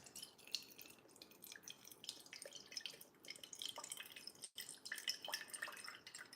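Soy sauce pours into a small measuring bowl as a quiet, uneven dribble with irregular splashes and drips, close by and soft.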